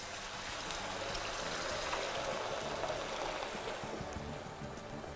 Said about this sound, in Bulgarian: Прибавяме 2 чаши вода.